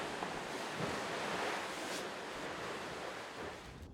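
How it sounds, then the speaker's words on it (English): Ocean waves and strong wind around a racing yacht offshore in the Volvo Ocean Race, a continuous broadband rush of surf and gusting air with wind buffeting the microphone. "Tough sailing out there on the ocean with all the teams getting a little bit of a pounding right now from that breeze that's coming in."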